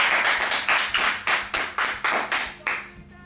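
A church congregation claps in unison to acclaim the Lord, a loud rhythmic run of about ten sharp, evenly spaced claps that slows and fades at the close.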